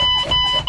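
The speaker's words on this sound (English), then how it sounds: "Alarm's on." A Mack Pinnacle CXU613 truck's low air pressure alarm sounds as the brakes are pumped down, a steady high electronic buzz with a slight pulsing edge, close and alone for under a second.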